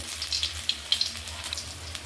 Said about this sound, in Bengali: এবার এগুলো একটা একটা করে ভেজে নেব গ্যাস কমিয়ে রেখে ভাজতে হবে